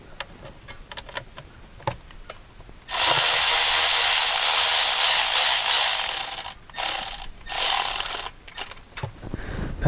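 A ratchet runs in the transmission pan bolts on a VW Touareg, with scattered clicks at first and then a long, loud, continuous burst of rapid ratcheting that breaks off and starts again in short runs.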